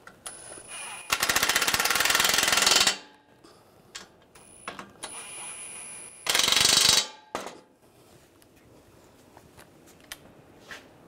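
Quick bursts of rapid mechanical clicking, probably a power ratchet, snug down the bolts on a radiator being replaced in a 2013-2016 Dodge Dart 2.4L, two loud close runs of several seconds each between scattered tool knocks and quiet pauses.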